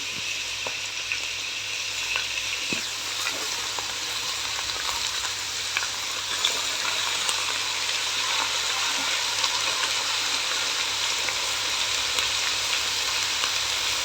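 Chopped spinach frying in oil for palak paneer, a steady close sizzle and crackle running unbroken for the whole stretch with faint occasional stirring scrapes.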